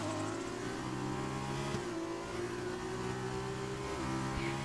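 Formula 2 race car in a racing video game at a Spanish circuit, its engine whining at high revs with shifting pitch as it accelerates and changes gear, steady and continuous.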